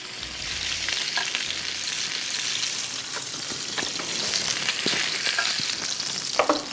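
Salmon fries in oil in a pan before a mustard sauce, a loud continuous crackling sizzle with small spits and pops near the end, close and steady with no talking.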